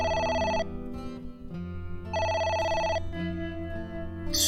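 A telephone rings in the video game AI: The Somnium Files, with two bursts of an electronic trilling ring separated by a pause, heard over soft background game music.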